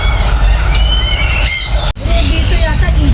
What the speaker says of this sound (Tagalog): Dito yata ibon.